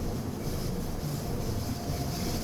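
A train climbing the steep Bernina viaduct at full power in Train Simulator 2020, heard as a steady, loud, dense rumble and roar that continues without a break and carries no talk.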